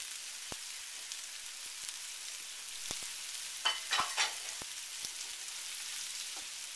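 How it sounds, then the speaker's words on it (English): Skinless pork sausage, longanisa, frying in a pan, a steady faint sizzle with scattered sharp pops and a short burst of louder spattering midway, no voices. "you just kind of cook it on one side until it gets firm, and then just roll it around until all the sides are cooked."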